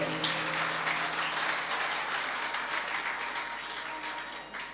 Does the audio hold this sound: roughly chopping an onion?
no